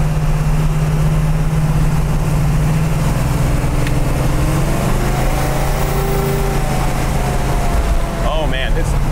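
A 1970 Plymouth Sport Satellite with a big motor and working overdrive rumbles at a steady low drone as the throttle is touched, with engine pitch shifting slightly while driving, heard from inside the car.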